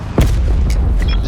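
Flashbang grenade going off in the shooter game Call of Duty: Black Ops 4, one loud sharp boom followed by a sustained ringing roar and scattered game effects.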